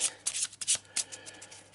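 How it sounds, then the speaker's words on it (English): A quick shuffle of the orange deck of playing cards during a tabletop Arkham Horror game, giving several crisp riffling bursts close up with no talking. "A quick shuffle. And a quick cut."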